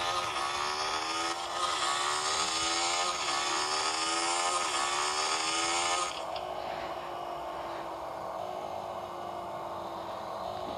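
A motorcycle engine runs steadily close by with a buzzing, rising-and-falling revving drone that drops to a lower, quieter idle-like hum about halfway through.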